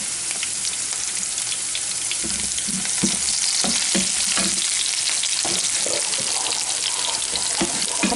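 Ginger and garlic sizzle and fry steadily in a hot pan for a Kerala-style mango pickle, with the crackle sustained throughout and a few stirring scrapes breaking through, close up and without speech.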